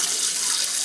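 Water runs steadily from a tap as hands are rinsed after handling venison for homemade jerky, a continuous close hiss without pauses.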